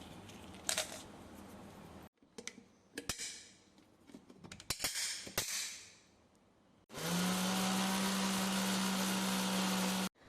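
Several clattering, rattling handling noises come first; then an electric mixer grinder roars steadily and loudly for about three seconds while grinding whole spices for homemade pav bhaji masala.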